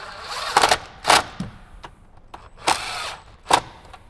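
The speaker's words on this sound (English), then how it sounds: "Then we can go ahead and grab our impact gun or our socket and just go ahead and" An impact gun tightens 7mm bolts on a speaker pod in a Jeep Wrangler JK during an Alpine speaker install, giving four short, sharp bursts of rattling, whirring noise with quiet pauses between them.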